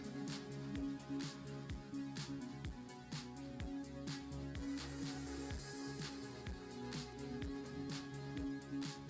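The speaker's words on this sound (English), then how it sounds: "I know you can hear the shot, but I don't know if you guys can hear me hitting the steel." Repeated SKS rifle shots at an outdoor range, each a sharp broadband crack arriving in a steady irregular string, with faint metallic pings from bullets striking a steel target likely buried under the loud reports.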